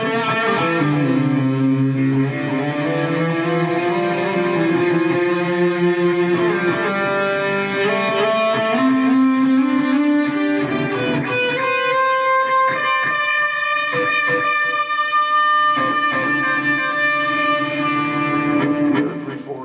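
Sustained electric guitar notes played through a Boss Katana amp with the pick attack softened into a smooth, violin-like swell, moving in slow melodic lines with effects and reverb, loud and continuous with no talking.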